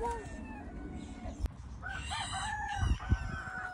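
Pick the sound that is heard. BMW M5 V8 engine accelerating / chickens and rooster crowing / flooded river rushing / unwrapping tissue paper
chickens and rooster crowing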